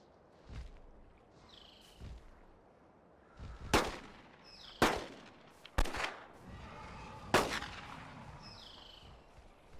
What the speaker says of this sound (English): maybe we'll just try unloading all we can of the revolver till it goes down.